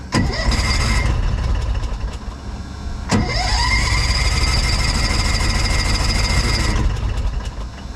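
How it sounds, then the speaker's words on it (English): A car engine cranks and struggles to start, choke not helping: two long churning starter runs separated by a sharp click, the second with whining starter tone, loud and close with no talk. "I'm presently having some starting troubles, and I'm not sure why"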